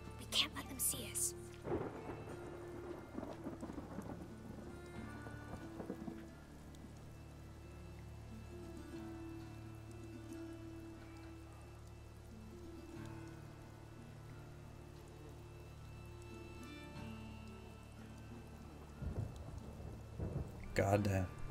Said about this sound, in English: There's thunder in the air.